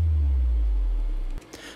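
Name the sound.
synthesized sub drop sound effect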